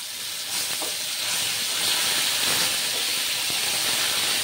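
Mustard paste hits hot oil with fish tempered with nigella seeds, giving a loud, continuous hiss and sizzle that holds steady for several seconds with a few faint clinks.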